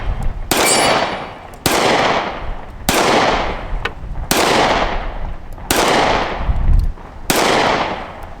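A Smith and Wesson CSX pistol fires six loud, sharp shots at a fairly even pace about a second apart, each crack trailing off in a short echoing decay, with no talking between them.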